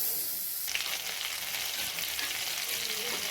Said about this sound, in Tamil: ஒரு கடாய் சூடானதுக்கப்புறம் தேவையான அளவு பட்டர் ஆட் பண்ணிக்கோங்க.